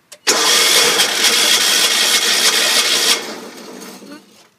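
A John Deere 318 garden tractor engine cold-starts without choke, a short burst of starter cranking that catches into a loud, rough run for about three seconds before dying away.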